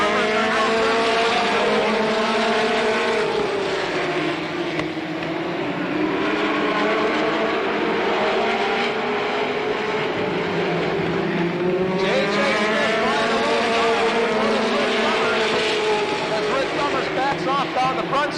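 Race cars roar around the track at the 1985 Slinger Nationals, their engines a loud, continuous drone that rises and falls as they pass, with a commentator talking over the noise.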